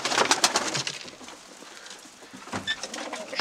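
Pigeon chicks coo softly, with a couple of short clusters of soft, close calls separated by a quieter pause.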